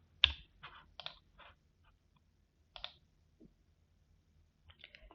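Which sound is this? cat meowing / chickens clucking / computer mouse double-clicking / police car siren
computer mouse double-clicking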